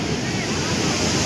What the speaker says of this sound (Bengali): সমুদ্র উত্তাল হয়ে আছে